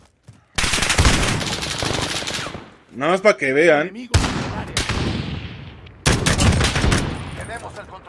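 Bursts of M4 rifle fire in Call of Duty Modern Warfare, three long, loud automatic volleys separated by a short spoken phrase, each burst a rapid chatter of shots that tails off.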